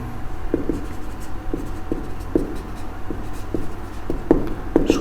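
Pen on paper while writing out a math solution, a series of faint scratchy strokes and light taps at an irregular pace over steady background hiss, close by and quiet.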